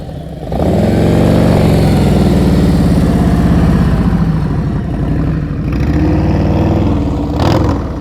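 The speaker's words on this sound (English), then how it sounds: "you heard his throttle go down? That's, the throttle went down" A motorcycle in advanced slow-speed riding practice holds a steady mid-pitched engine drone, then the throttle eases off and the revs drop before picking up again, fairly loud and close without speech.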